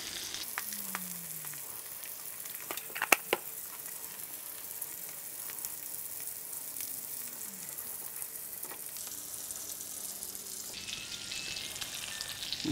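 Salmon fillets pan-searing in a skillet give a steady, even sizzle and crackle of frying that runs throughout, with a couple of faint clicks partway through and no talking.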